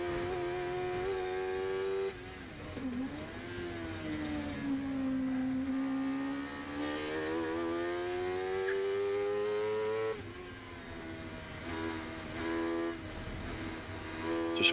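A Sports MC racing car laps Snetterton circuit, its engine note close and loud, climbing and dipping through gear changes with a brief drop in pitch and level before it builds again.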